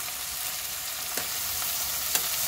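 Five sliced onions fry for hamour fish biryani, giving a steady, close sizzle broken by two quick spatula scrapes.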